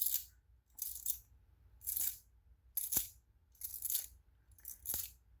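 Old antique clock keys clink against each other in about six short, bright metallic jingles at a steady pace, close up and with no voices.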